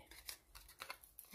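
Scissors snip through a small paper tab for a mini-album, giving several faint, quick crisp cuts close by.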